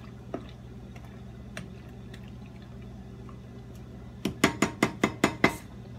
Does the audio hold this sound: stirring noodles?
yes